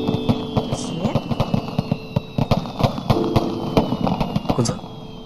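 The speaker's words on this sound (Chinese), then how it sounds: "我特意给你放了烟花呢" Fireworks set off in a costume drama scene, heard as rapid, irregular bursts of popping and crackling over a steady roar, with a faint voice mixed in.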